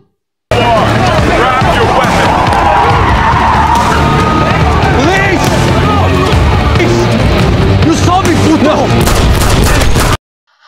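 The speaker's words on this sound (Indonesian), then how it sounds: "Carmichael kemudian tewas ditembak karena dianggap Garcia sebagai orang yang memberitahukan ke polisi" Gunfire rings out in a crime film scene, with dense rapid bursts of shots and screeching mixed into a loud, continuous action soundtrack, close and intense.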